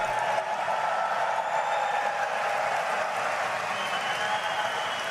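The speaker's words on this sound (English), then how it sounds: "the crowd roars" Large crowd at a Bitcoin event cheering and applauding as the president walks on stage, a dense steady roar holding at even loudness throughout.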